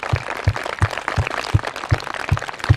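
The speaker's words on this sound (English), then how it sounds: "I want we all join in a round of applause for your teachers" A crowd at a school gathering applauds its teachers, a steady wash of clapping carried over regular low thumps that repeat about three times per second.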